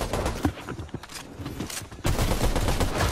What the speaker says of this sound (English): They shooting behind me, though.